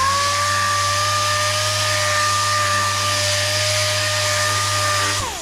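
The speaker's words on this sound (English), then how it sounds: "We're inside sanding, which was what I set out to do today." A power sander works on an awkward-shaped part from a 1954 Chevy truck with a Cummins swap, indoors. It gives a steady, loud, even whine for about five seconds, then winds down and stops at the end.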